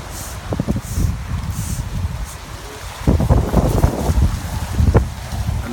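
Wind gusting on a windy day at an outdoor plaza water feature in Los Angeles, rough rumbling buffeting against the microphone that swells and eases, with a stronger gust in the second half.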